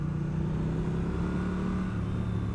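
A Triumph Street Twin 900cc motorcycle engine running at a steady low idle, a deep smooth rumble that holds constant and close throughout.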